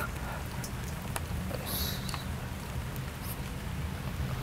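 Steady rain falling outdoors, a constant close hiss with scattered drop ticks throughout, with no voices.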